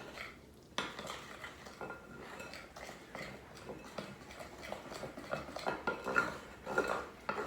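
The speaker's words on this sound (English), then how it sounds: "Going to give it a good mix till all the white is gone and the lumps are incorporated." Cake batter being mixed by hand in a bowl with a utensil, without a mixer. Continuous scraping and clinking of the spoon against the bowl runs throughout, growing busier and louder toward the end.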